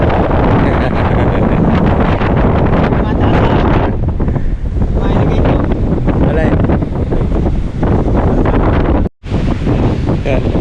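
Strong seashore wind roars and buffets the microphone almost nonstop, loud and rough, with a brief sudden drop near the end.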